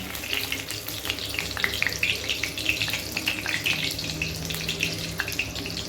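Bay leaves fry in mustard oil with a lively crackling sizzle and scattered pops, close by and continuous for several seconds, a faint low hum underneath.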